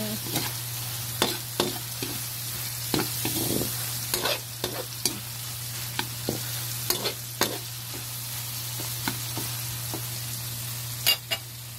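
Ginisang upo, sautéed bottle gourd, stirred in a pan with a utensil scraping and tapping at irregular intervals over a steady low sizzle and a constant background hum, no voices.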